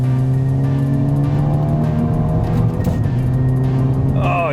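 A Ford Focus ST pushed hard through a chicane, its engine note loud and close throughout, holding steady harmonic tones that dip and recover mid-run before rising at the end.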